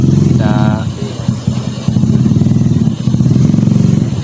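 A motorcycle engine idles and rumbles steadily nearby, its low putter continuing throughout, with a brief voice near the start.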